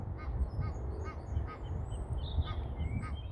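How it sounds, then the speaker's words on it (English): A goose or duck perched up in a tree calls noisily in a rapid string of harsh, honking squawks, fairly close over low background rumble along a riverside path. "That goose or duck has flown up into that tree and is being incredibly noisy."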